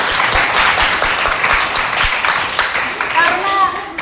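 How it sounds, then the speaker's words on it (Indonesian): Classroom applause for a student after a group experiment presentation, a dense steady clatter of many hands filling the room, with voices talking over the clapping. "beri tepuk tangan dulu kepada Aira."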